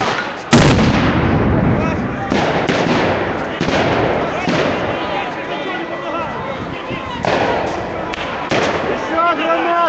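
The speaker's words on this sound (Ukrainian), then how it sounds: "Еще граната!" Grenades blast during street clashes, with one sharp, loud explosion followed by repeated booming bursts and crackling, close and echoing amid shouting crowd voices.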